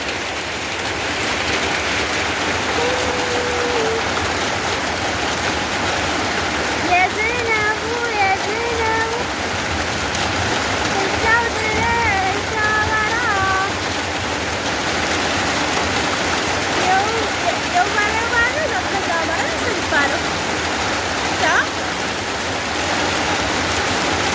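Heavy rain falls in a constant loud wash throughout, with a voice speaking intermittently over it in the middle section.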